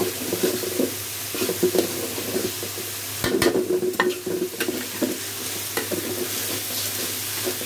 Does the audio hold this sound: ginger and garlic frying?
yes